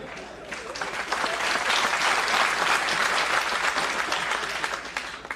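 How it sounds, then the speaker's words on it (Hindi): An audience breaks into sustained applause, a dense wash of clapping that swells to a peak and then gradually eases off over several seconds, with no voices heard above it. "जेंडर स्पेसिफिक ताली मत बजाओ।"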